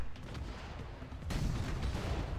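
Dense, rumbling rapid-fire booms of heavy ship cannon fire in the naval battle game Battle Bay, continuous and loud, swelling louder partway through with no talking.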